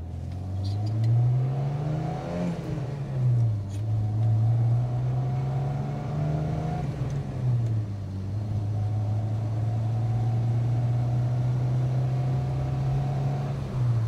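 A Citroen DS21 Pallas engine accelerates gently through the gears, heard from inside the car as a steady drone that rises in pitch, drops at each gear change and climbs again, several shifts in a row, with road noise beneath.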